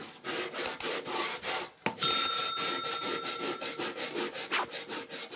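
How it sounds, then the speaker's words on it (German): A wall is sanded by hand with a small triangular sanding block during mould removal. Steady, close, rhythmic rasping strokes run throughout, with a brief pause near the two-second mark. "Und dazu nehme ich einen kleinen Dreieckschleifer, mache das Ganze natürlich per Hand."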